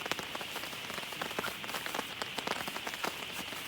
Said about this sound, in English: Hopefully this rain backs off a little bit.